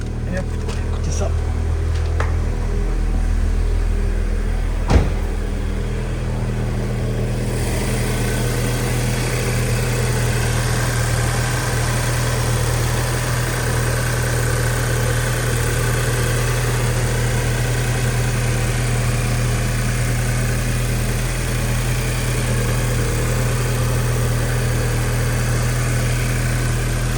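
A Volkswagen Golf GTI Edition 35 with original engine and exhaust starts and settles into a steady, low rumbling idle that runs on evenly, close by, with no talking over it.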